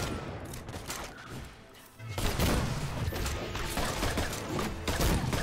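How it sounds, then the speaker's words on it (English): Sniper fire in the video game Full Metal Furies, a dense run of cracking shots and impacts that swells louder partway through and keeps going over busy game sound. "there's like 3 snipers shooting at me"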